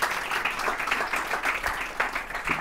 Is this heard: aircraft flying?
no